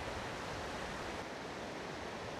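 A river near Lake Matsubara in Koumi town rushes in a steady, dense wash of flowing water, unbroken and fairly close, with no voices.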